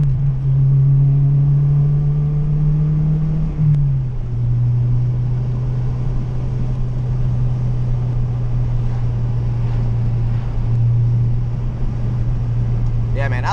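A 2002 Acura RSX cruises along with a steady low engine drone and road rumble from inside the cabin, its pitch dipping slightly as it shifts, with no one speaking.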